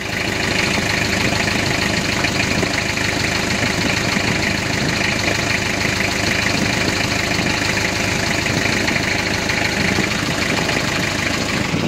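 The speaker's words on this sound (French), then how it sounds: "le bruit de l'échappement" A truck engine idles with a steady low exhaust rumble and faint knocking, a continuous close drone with no speech over it.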